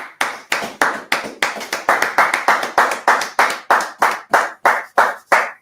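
A steady run of loud hand claps in a regular rhythm, close and clear, with no talking.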